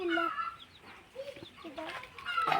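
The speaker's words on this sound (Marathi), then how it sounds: "हे बघा कोंबडीची पिल्लं" Chicks and hens in a village yard, with high chirps and clucks close by, some brief harmonic calls and a louder burst near the end.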